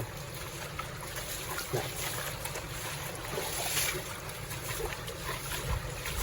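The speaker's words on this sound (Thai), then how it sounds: "น้ำก็จะเป็นลักษณะ ไหลมาจากเขานะครับข้างบนนู่นนะครับ" A mountain stream in Korea, swollen after a night of heavy rain, flows in a steady, close rushing wash with light trickling and gurgling detail.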